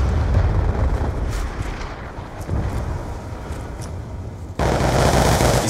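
Sustained gunfire roars in dense bursts, loud and close, keeping up without pause before a sharper, harsher burst near the end.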